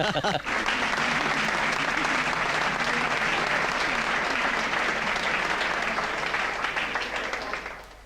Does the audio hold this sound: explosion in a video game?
no